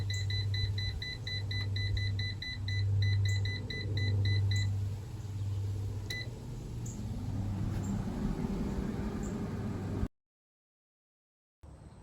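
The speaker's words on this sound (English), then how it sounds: "Now the air fryer is done cooking" An air fryer's finishing alarm after roasting whole sweet potatoes at 400 degrees: a steady run of rapid, high, evenly spaced electronic beeps in short bursts, repeated several times, over a low hum. The beeping then stops and the hum fades into silence.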